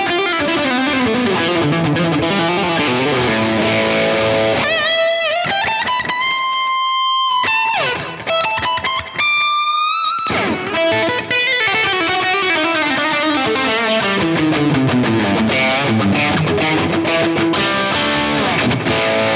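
An electric guitar plays a high-gain tone through a compact travel pedalboard with a Tubescreamer engaged, heavily distorted chords and sustained bends that fill the whole passage with only brief gaps, no talking.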